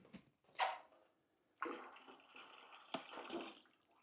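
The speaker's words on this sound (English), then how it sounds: "I'm going to pour it in there." Water is poured into a food-grade bucket in splashy bursts, a short slosh, a pause, then a longer continuous pour with a couple of sharp knocks, close and fairly quiet.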